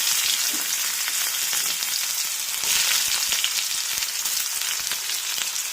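Shallots sizzle steadily in hot coconut oil with popped mustard seeds, a loud continuous crackling hiss with occasional sharper pops.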